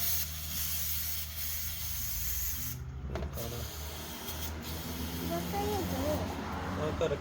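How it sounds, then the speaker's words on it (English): Parts cleaner hisses from an aerosol can in short sprays into a dirty EGR area on an engine, mixed with rubbing and scraping and a voice talking nearby. "So we're just going to get some parts cleaner and spray it in there."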